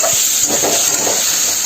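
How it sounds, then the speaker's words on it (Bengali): Water goes into a hot pan with turmeric and salt for a spinach dish, raising a loud, steady hiss of steam that lasts the whole short moment. "এখানে জল দিয়ে দিলাম"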